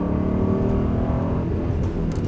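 During a driving lesson on a track, a car engine drones loudly from inside the cabin, a dense steady rumble with a slight rise in pitch as the driver accelerates.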